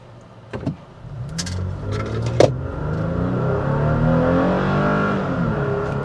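A 2022 Toyota Tacoma Limited pickup drives and slows to a stop, its engine a low steady hum heard from inside the cab, with a few faint clicks and knocks early on and no talk.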